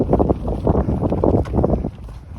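Cold wind gusting on a hiking trail from Sundarijal to Dhap Dam, loud buffeting rumble against the microphone, close and uneven throughout.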